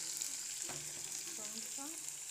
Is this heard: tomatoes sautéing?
yes